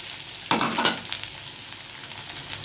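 Garlic hits hot oil for a Gujarati tempering, bursting into a loud, crackling sizzle that flares sharply, then settles into a softer, steady fizz.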